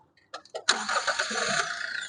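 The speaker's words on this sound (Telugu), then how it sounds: "సింగిల్ సెల్ఫ్ అయితే బండి స్టార్ట్ అవుతుంది" A 2018 Toyota Etios GD diesel car's engine cranks in a few short bursts, then catches and settles into a steady, close idle.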